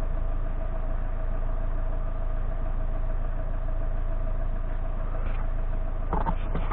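A 2008 Citroën C5 with an automatic gearbox idling, a steady low engine hum held evenly throughout, with a brief clicking rattle near the end.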